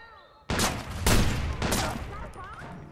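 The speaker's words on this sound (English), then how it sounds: "You want to get a feel about how it feels to shoot the guns in the game" Video game gunfire from Watch Dogs online on PS4: a few sharp, loud shots and bursts ring out near, with rumbling tails, while faint voices sit underneath.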